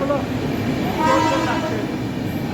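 A train rumbles steadily at a station platform in Nabadwip, with a low mechanical roar, while people talk and murmur in the background.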